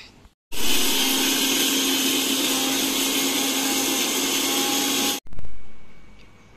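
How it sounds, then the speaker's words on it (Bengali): A grinder powders puffed rice (khoi) inside a pot, a loud, steady high whirring roar for about five seconds that cuts off abruptly, followed by a brief restart and spin-down. "এই যে খইয়ের গুঁড়ো করছে"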